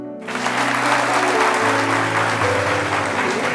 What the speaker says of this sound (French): permettez-nous de marquer le coup et de vous offrir ces applaudissements